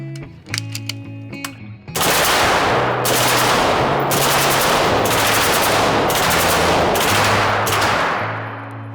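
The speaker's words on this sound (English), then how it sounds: "he actually brought a FN Scar full auto as well" An FN SCAR rifle fires full auto at an outdoor range, loud rapid bursts of gunfire repeated in several long strings, preceded by a few seconds of clinking and handling noise.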